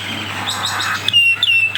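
A bird in Phuket or Rawai, Thailand, gives several thin, high chirps and whistles over a soft outdoor hiss, with a brighter burst of tweets near the end.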